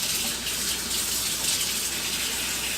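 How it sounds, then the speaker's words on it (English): Cold water runs steadily from a kitchen sink tap over freshly boiled eggs, a continuous close hiss and splash with no breaks, loud and with no talking. "I'm just going to put them down in the sink and just let a little bit of cold water run on them."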